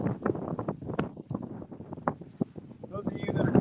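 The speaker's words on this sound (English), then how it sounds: "It is windy. I don't know if you guys can tell." Wind buffeting a microphone outdoors at Roosevelt Lake, a rough, gusty rumble running under a man's continuous speech throughout.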